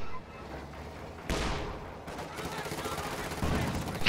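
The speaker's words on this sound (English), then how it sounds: "Infantry support gun is firing." An infantry support gun firing in a World War II strategy game amid a wider battle, with sharp booming reports over steady rattling gunfire and rumbling combat noise.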